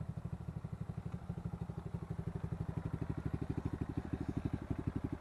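A Kawasaki KLX motorcycle engine idles with a quick, even thumping pulse, a faint, distant-sounding putter that holds steady throughout without any talk over it.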